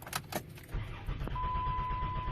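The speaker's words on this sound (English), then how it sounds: "I'm going to try to start it and let you hear" A car with a bad fuel pump: after jingling keys, the ignition clicks and the starter turns over briefly without the engine catching, leaving a faint steady electrical whine; close and fairly quiet.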